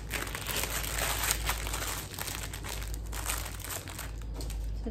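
Plastic packaging from a yarn swap parcel crinkles and rustles as it is opened by hand, a close, continuous crackling that fades slightly partway through.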